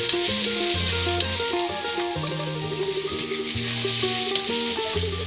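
Onions frying in oil in a hot pan while being stirred, a steady bright sizzle running throughout, with soft scraping of the stirring and faint music in the background; no talking.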